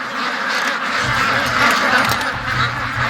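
Ducks quack in a busy, excited outdoor chorus, loud and close, with overlapping calls throughout and a low rumble of movement underneath.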